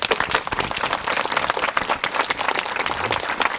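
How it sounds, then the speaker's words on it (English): Audience at an outdoor lighthouse event clapping for Art Cohen, a dense, loud, continuous patter of many hands with no voices over it. "join me in a round of applause for this fine man"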